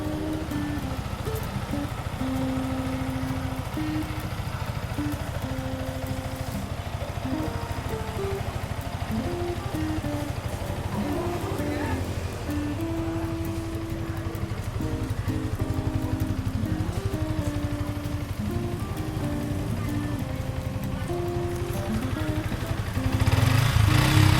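A 2020 Yamaha MT-15 motorcycle idles with a smooth, steady low engine hum that holds evenly throughout and grows slightly louder in the final seconds.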